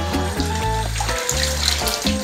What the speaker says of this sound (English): Get that water flushed out of there.